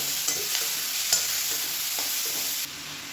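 Two medium cut tomatoes stirring and sautéing in a pan for tomato chutney, a steady close sizzle with a few soft scrapes of the spoon, no voices.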